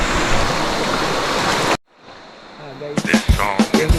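Strong river current rushing loudly in Leyte, a dense broadband roar that cuts off abruptly partway through, followed by quieter flowing water and then voices talking over it.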